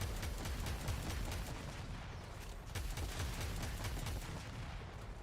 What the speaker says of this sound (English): the Kuva Ayanga, which, it's a grenade launcher. Impact grenades.